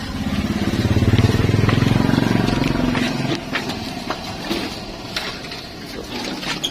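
A Suzuki Skydrive scooter with its battery disconnected is kick-started, producing a loud close rhythmic engine rumble for about three seconds that then cuts out, leaving faint clicks and rattles.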